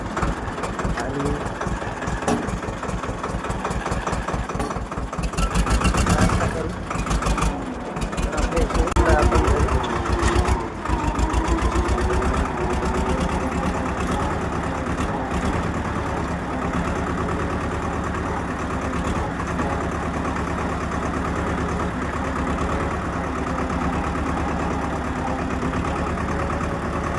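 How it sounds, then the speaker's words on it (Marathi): A farm tractor, used for field work, idles steadily near the listener with a low, even diesel throb, a few louder surges early on before settling into a constant drone. "आता ट्रॅक्टर लावून देऊ"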